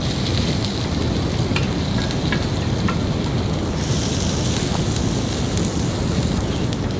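Chopped onions dropped into hot oil in a frying pan give a steady, loud broadband sizzle that runs evenly throughout, with a few faint clicks and no voices.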